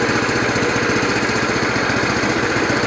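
A Predator 420cc single-cylinder engine mounted on a golf cart runs continuously, giving a loud, close, rapid chugging throb that holds an even rhythm throughout.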